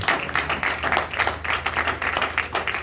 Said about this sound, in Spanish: Denle un aplauso al Señor Jesucristo en esta mañana.